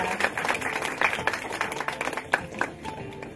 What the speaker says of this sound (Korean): 다시 한번 큰 박수 주시면 감사하겠습니다